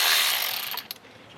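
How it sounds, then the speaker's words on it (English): A hand ratchet clicks quickly while loosening a 10mm bolt on a car engine during a coolant thermostat repair, a short run of close mechanical clicks over faint background hiss. "Now there's a 10mm bolt up here. Take that off."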